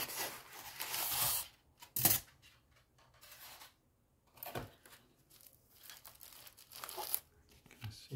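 Packaging is torn open and crinkled while speakers are being unboxed. The sound comes as several loud, sharp rips and crumpling bursts, separated by quiet gaps.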